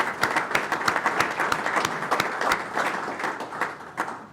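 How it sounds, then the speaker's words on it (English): An audience at a Houston Dynamo FC press conference applauds for Pat Onstad, distinct individual claps ringing out in a loose, steady patter that gradually thins toward the end. "One more round of applause for Pat,"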